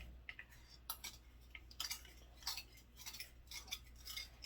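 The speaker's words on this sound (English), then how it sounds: "I'm just going to stir this up" Garlic and beef being stirred in a pan for Thai basil beef, with a utensil scraping and clinking against the metal in irregular light taps over a steady low hum, close by and with no talk.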